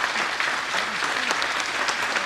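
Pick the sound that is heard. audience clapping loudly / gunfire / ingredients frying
audience clapping loudly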